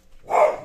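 A single short, muffled bark from a pet dog indoors, close by and moderately loud, with nothing else around it.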